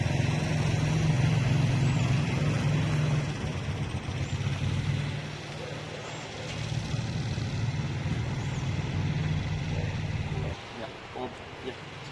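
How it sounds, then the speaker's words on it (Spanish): A car drives past on a road during a timed run between two marked points, its engine a steady, fairly loud rumble that eases off toward the end, with faint talk underneath. "aquí el coche está corriendo y va a pasar del punto A al punto B"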